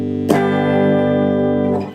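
A Gibson SG Standard electric guitar on its bottom pickup, volume around 6 and tone on 3, strikes a chord that rings on, sustained and fairly loud, then fades out as another strum comes in near the end.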